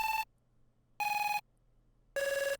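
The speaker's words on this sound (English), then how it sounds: "we are going to add the cool cell phone sound" Three short electronic synth beeps ring out at a steady pace, each a bright buzzy tone, with the last one pitched slightly lower, like a phone ringtone.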